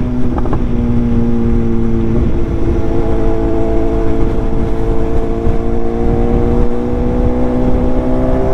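A Yamaha Tracer 900 motorcycle hums steadily and close while riding, with engine tones rising smoothly as it accelerates and no voices over it.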